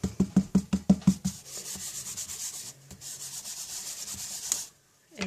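An embossing buddy pad is rubbed over paper, first in a quick run of about eight distinct back-and-forth strokes, then a softer, steady rubbing that stops briefly near the end.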